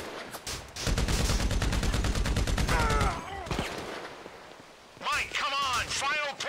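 A shootout in Grand Theft Auto V brings a rapid burst of automatic gunfire lasting about two seconds, then scattered shots, with voices shouting over the action.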